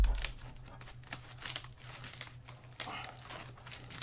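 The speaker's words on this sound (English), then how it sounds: "All these are pruning scissors, but they are tough enough to cut through the reeds." Pruning scissors snip through tough reeds, giving a series of crisp, irregular crunching cuts close by with rustling in between and no talk.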